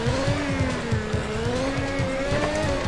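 A Haas 2022 Formula 1 car makes a standing start in a racing video game, its engine a loud, high-revving whine that stays up and wavers slightly in pitch.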